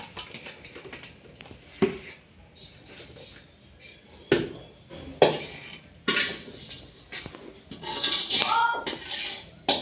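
Mango pickle being stirred by hand in a large, overfull container, with scattered clinks and scrapes of a utensil against the vessel, irregular and close, plus a few louder knocks.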